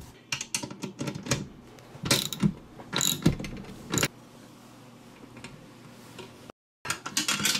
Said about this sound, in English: we're just going to go around and tighten everything down now.